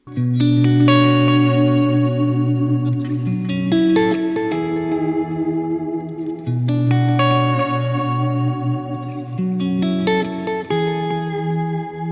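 Electric guitar chords through a Boss GT-1000 ring out with a delay echo trailing each strum and a gentle wavering tremolo, played alone and fairly loud.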